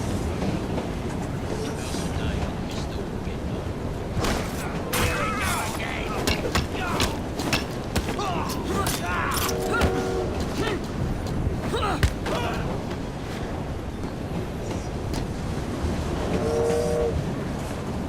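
A train rolls through Victorian London in Assassin's Creed Syndicate with a steady, loud rumble and clatter, broken by brief metallic squeals and horn-like tones, while voices talk over it.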